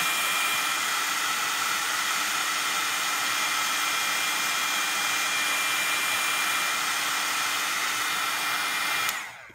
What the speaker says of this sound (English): All right, so once more with the heat tool.